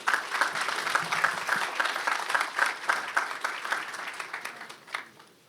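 A press conference audience gives a round of applause for a president, a moderate, steady patter of many hands clapping with a few sharper claps, fading out at the end.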